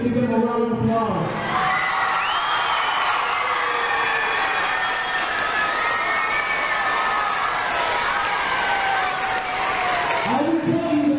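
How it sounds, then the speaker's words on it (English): A crowd cheers and applauds for teachers standing to be recognized, a dense wash of claps and shouting voices sustained for several seconds, with a person talking briefly at the start and end. "Let's give them a round of applause."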